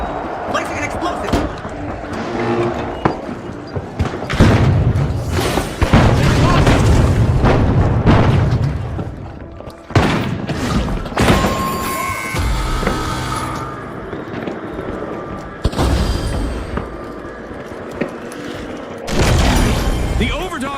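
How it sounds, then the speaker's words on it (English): Grenade and explosive blasts in the video game The Finals, several heavy booms and crashes landing among gunfire and debris, loud and close, with game voice lines and talk over parts of the action. "Grenade out. Placing an explosive."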